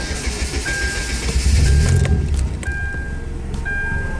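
Hyundai Genesis Coupe engine idling up close, a steady low rumble that swells briefly louder in the middle, with a few faint clicks and a thin whine over it.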